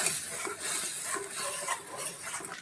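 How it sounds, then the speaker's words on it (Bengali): Salted spice paste being sautéed in ghee and stirred in a pan, quiet scraping and soft sizzling in uneven strokes, close and faint, no talking. "এবার এটা কষাতে থাকবো।"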